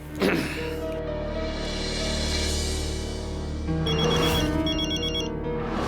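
A mobile phone rings indoors in a loud electronic tone that plays through a sustained stretch and then repeats in rapid pulsing bursts, with no talking over it.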